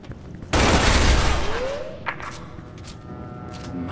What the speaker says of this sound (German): Da wird nicht mehr daneben geballert.